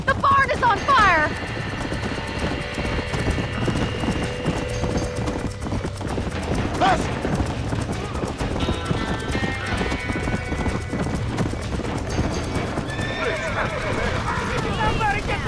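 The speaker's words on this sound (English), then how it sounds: "Somebody get them horses out!" Hooves clatter in a rapid galloping rhythm while horses whinny and neigh in the video game Red Dead Redemption, fleeing a burning barn, with music and voices mixed in over a busy, chaotic scene.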